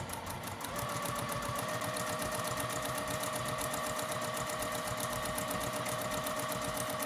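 A sewing machine runs fast and steady while back tacking through fabric for a homemade table mat, a close, continuous rapid needle clatter with no pauses.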